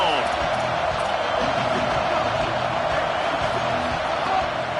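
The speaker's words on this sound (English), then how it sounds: "This crowd ready to make its presence known." A football stadium crowd roars in a steady, loud wash of noise that holds throughout, with a commentator talking over it.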